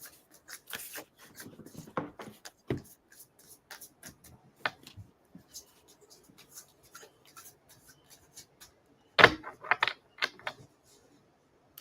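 Tarot cards shuffled by hand, a scatter of quiet, dry riffling and tapping bursts at irregular intervals, close to the listener, with one sharper louder flurry near the end and brief pauses between.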